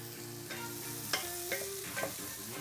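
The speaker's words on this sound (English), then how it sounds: "Now we add our sweet potatoes to the pan. Get your celery in the mix." Sweet potatoes and celery sizzle and fry in a pan while being stirred, a steady close crackle with several sharp scraping knocks of a utensil against the pan.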